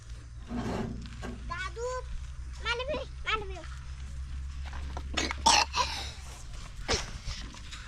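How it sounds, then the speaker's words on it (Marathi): A child coughs several times in short bursts near a three-phase fodder-cutting machine in a farmyard, with people talking around the coughs against a steady low mechanical hum. "खोकला येतो नाही तुला"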